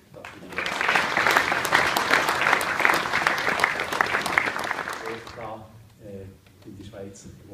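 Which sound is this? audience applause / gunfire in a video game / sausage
audience applause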